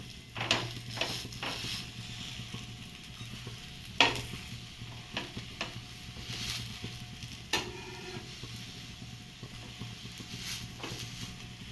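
A moong dal dosa roasts on a pan, a quiet, soft sizzle punctuated by sharp spatula scrapes and taps, with no voices.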